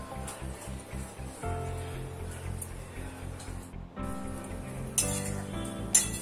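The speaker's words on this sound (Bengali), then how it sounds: "একটু নাড়িয়ে নিতে হবে ধনেপাতা যাতে সবতে মিশে যায়" A spoon stirring curry in a pan after coriander leaves go in, with repeated metallic clinks and scraping at a steady rhythm, close and moderately loud, with a couple of sharper clanks near the end.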